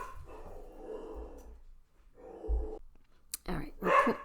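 Dogs barking in short bursts at a distance, with brief gaps of quiet, then a louder burst close to the end.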